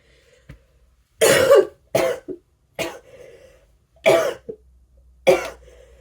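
Several harsh coughs in separate bursts, close and loud, with short raspy throat sounds trailing between them.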